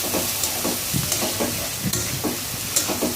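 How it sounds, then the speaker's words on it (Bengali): Onion and garlic frying in a pan for a rohu fish and sweet pumpkin curry, a steady close sizzle broken by repeated scraping stir strokes, with no voices. "আমি এখন পেঁয়াজটা একটু ভাজা দিয়ে নিব। ভাজা দেওয়ার পরে একটু রসুন দিয়ে দিচ্ছি"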